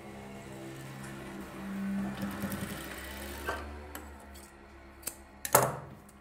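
A sewing machine stitching silk fabric for a baby's skirt and top, a steady mechanical whirring run of stitches up close, then a few short bursts and clicks as the machine stops and starts.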